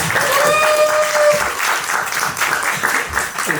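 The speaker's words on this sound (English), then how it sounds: "So small round of applause, please." Applause from a short film panel audience, steady clapping filling the room for the full length, with a thin whistle-like tone near the start and no talk.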